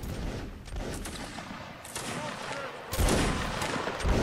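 Musket volleys crack in a Mount & Blade: Warband battle, ragged bursts of many overlapping shots with a heavy volley near the end, under shouted commands.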